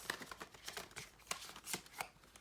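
A deck of cards is shuffled in a series of quick riffling bursts and soft slaps, close and fairly quiet, with no talking.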